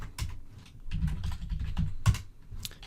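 Typing on a computer keyboard at a command prompt, a steady run of close, crisp key clicks with a few heavier thumps like the space or enter key, no talk.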